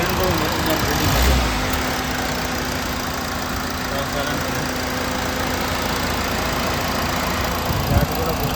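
A 2012 Toyota Etios idles with a soft, even drone close by, a faint mechanical hum holding steady, with a small bump near the end.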